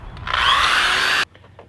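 A power drill with a wood bit bores through a wall for an outdoor camera install, a loud, steady high whine held for about a second before cutting off abruptly, followed by faint handling noise.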